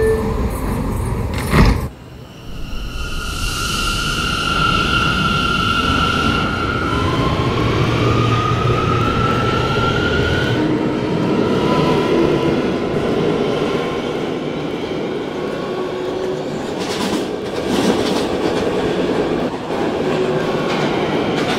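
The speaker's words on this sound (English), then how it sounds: "This is a Brooklyn-bound C local train" An R179 New York subway train on the C line rumbles loudly and steadily, wheels clattering on the rails, with metallic squeals and rising whine tones over the constant roar.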